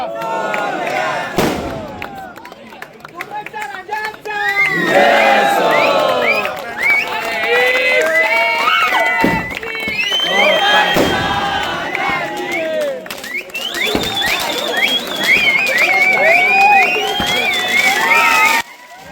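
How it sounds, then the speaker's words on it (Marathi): A large crowd at a Ganpati inauguration celebration roars with cheers and rhythmic shouted chants, loud and continuous, rising in surges, with many voices chanting together and occasional sharp bangs. "हा जो तुम्हाला जल्लोष आवाज ऐकायला येते ना"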